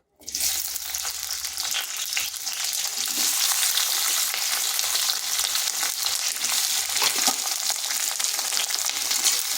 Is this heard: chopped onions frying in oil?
yes